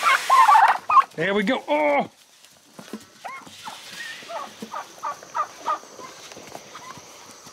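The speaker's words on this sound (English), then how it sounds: "Okay, most of the turkeys are fed." Turkeys at morning feeding let out a loud burst of rapid gobbling close by, followed by scattered quieter clucks and farm noises while a person speaks briefly.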